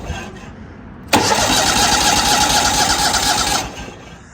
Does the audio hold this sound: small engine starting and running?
yes